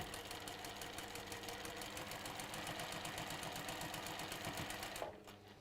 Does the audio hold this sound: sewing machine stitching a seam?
yes